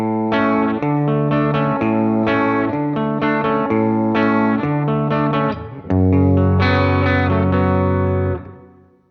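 A distorted electric guitar plays a repeating chord pattern, loud and sustained, then rings out on a final held chord that fades away.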